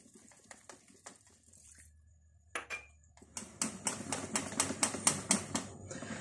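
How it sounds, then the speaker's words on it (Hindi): A whisk beats spinach pancake batter with milk in a bowl, a few light taps, a pause, then a quick run of sharp rhythmic clicks growing louder and faster, close and without voices. "बहुत अच्छी तरह से विस्क की मदद से इसको मैंने बहुत अच्छी तरह से फेंट लिया है।"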